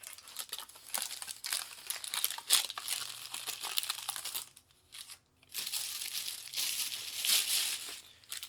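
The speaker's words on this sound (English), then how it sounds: "Here, let me wrap it. Let me unwrap it actually." Plastic wrapping is peeled and torn off a Japanese cup of noodles, giving close, crisp crinkling and crackling in busy bursts, with a brief quiet pause partway through before more rustling.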